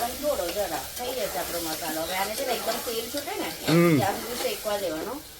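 Onions and spices roasting in oil while being stirred, a continuous sizzle with scraping stirs, heard under ongoing speech.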